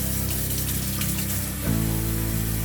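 Water from a tap gushing steadily over an iPhone 6 Plus as it is washed under a sink faucet, loud and close, with the flow changing pitch partway through.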